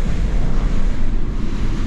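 Strong typhoon wind from Typhoon Marce roars steadily and loudly, buffeting the microphone with a constant low rumble and no voices.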